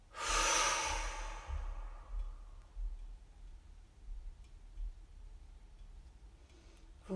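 Slow, deep breathing during a relaxation exercise: a strong, airy exhale at the start, then softer, quieter breaths and faint rustles in a calm, otherwise silent room.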